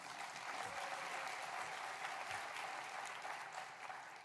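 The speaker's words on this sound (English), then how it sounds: "Let's give Judy a warm round of applause." A conference audience gives steady, dense applause with many hands clapping at once, holding evenly throughout and heard from a distance without talk.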